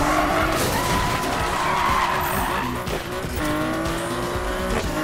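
Car tires squealing and skidding while drifting in a Need For Speed video game, a loud sustained screech over roaring engine revs, close and continuous with rising and falling pitch.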